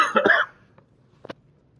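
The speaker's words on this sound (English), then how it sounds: "I have such a bad cough right now." A single harsh cough close to the microphone, followed by a short faint throat noise and a small second cough.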